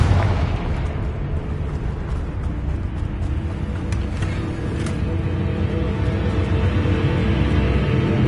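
Confringo fire-spell blasts in Hogwarts Legacy, a sustained roaring, crackling rumble with repeated muffled booms throughout, loud and dense without pause.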